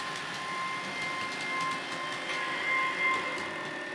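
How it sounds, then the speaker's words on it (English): Hornby model diesel train running on track, a faint steady rolling rumble with soft whine, heard up close and continuous, alone. "I can now turn on the diesel power, and you can do it while it's on the move."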